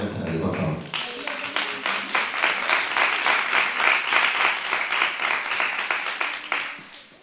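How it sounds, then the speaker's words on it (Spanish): An audience applauds at a spring award ceremony for a short-story contest, steady dense clapping rising after a brief moment of speech at the start, sustained for several seconds and then fading. "Fuerte aplauso y suban al escenario, por favor"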